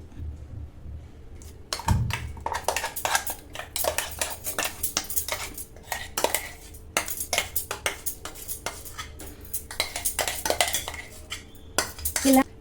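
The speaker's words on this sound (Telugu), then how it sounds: "ఈ విధంగా గ్రైండ్ చేసుకున్న పచ్చడిని పోపులో వేసి కలుపుకోవాలి" Ground cucumber chutney with dried red chillies is stirred into a tempering in a pan, a spoon scraping and clinking against the metal in a busy, irregular rhythm, close up and continuous after a first sharp knock.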